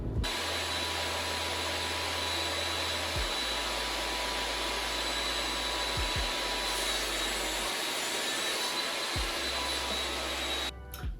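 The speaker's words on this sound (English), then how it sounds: "that's to cut the miter on this edge of all of the blanks" A saw, probably a table saw with a miter gauge, cuts miters on wooden picture-frame blanks: a continuous close whine and rush runs throughout, with the motor hum dipping briefly between several quick cuts.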